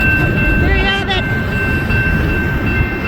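A northbound Union Pacific coal train rolling past outdoors, a loud steady rumble of wagons with a brief high squeal of wheels, continuous and close throughout.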